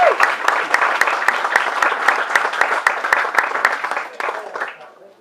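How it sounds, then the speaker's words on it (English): Audience members at a stage show give a warm round of applause, clearly separated claps in a quick, lively patter that stays strong before tapering off and fading out at the end. "Nice round of applause there."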